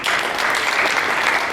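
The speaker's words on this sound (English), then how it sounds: "Give her a big round of applause" Loud, dense applause from a crowd at a University of Nebraska–Lincoln Phi Gamma Delta fraternity event, continuous and steady throughout with no gaps.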